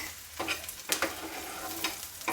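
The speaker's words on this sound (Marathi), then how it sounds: "आता टोमॅटो थोडंसं फ्राय करून घ्यायचं आहे आपल्याला" Tomato fries in a pan with a soft steady sizzle, punctuated by a few brief scraping stirs of a spatula, close and fairly quiet with no voices.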